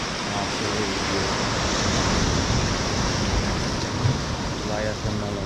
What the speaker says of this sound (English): Such a beautiful area to come check out the beach, go for a swim.